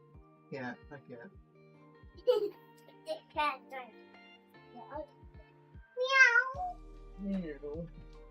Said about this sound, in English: Cat, my cat.